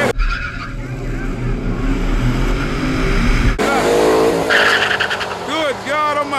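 A 2014 Corvette Stingray and a 2014 Mustang launch off the line in a drag race, with loud tire squeal and revving engines, then the cars pull away while excited spectators shout over the noise.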